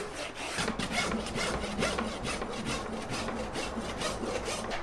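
Close, steady rasping of hardened Comfort Mix hoof glue on a horse's hoof, a continuous coarse scraping in repeated strokes with no talk.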